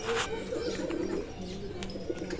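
Pigeons coo repeatedly inside a small bamboo pigeon house on a farm, soft low rolling calls close by, with faint chirps and clicks around them.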